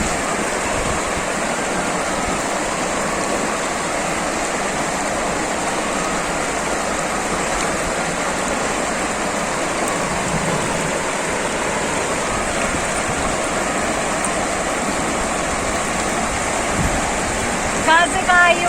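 River water rushes over slippery stones during a wade across a river on the way to a maternal grandmother's home: a loud, continuous broadband roar, close and unbroken throughout.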